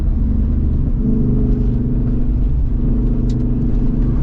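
A Jeep Wrangler 392 AEV drives off-road, its engine a loud, steady, close rumble that holds throughout without pause.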